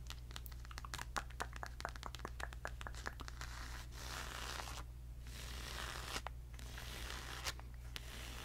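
Scissors being handled and pulled from a bag, giving close, quiet rustling, scratching and clicking handling noises in short bursts over a steady low hum.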